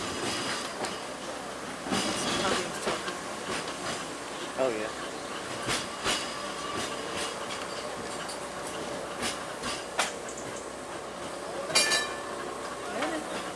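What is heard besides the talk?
Seaton tram running on tracks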